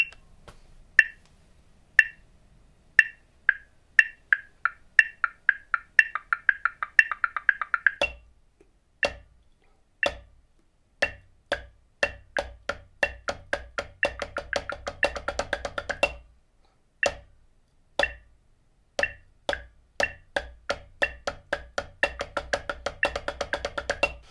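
Quiet, crisp drum hits played in a contest accuracy pattern, starting as spaced quarter notes and speeding up into dense subdivisions toward 32nd notes, with short pauses between bursts.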